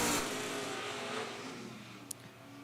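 A drag racing car launches off the line, a faint, distant roar that is strongest at the start and fades away, with a brief sharp click near the end.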